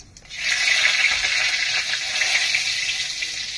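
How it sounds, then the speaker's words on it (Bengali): Whole cumin seeds dropped into hot oil in a kadai burst into a loud, continuous hissing sizzle that rises quickly and holds steady, close and alone. "এবার আমি দিলাম জিরে, গোটা জিরে, তেলে ফোড়ন দিলাম"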